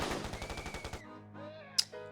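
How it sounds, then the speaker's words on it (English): Rapid automatic gunfire bursts ring out aboard a train in the video game 428: Shibuya Scramble, a loud rattling volley for about a second followed by quieter echoing sounds and a sharp crack near the end. "Gunfire and screams echoed from the back of the train."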